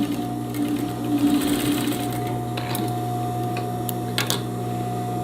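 An electric sewing machine stitches a skirt seam, running steadily and close with a constant mechanical hum, a short faster burst near the start and faint clicks and rustles of fabric being guided by hand.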